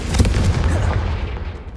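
A Confringo blast spell from the Hogwarts Legacy game erupts as a loud, booming explosion with a sharp initial burst and a rumbling, fizzing tail that fades over a couple of seconds.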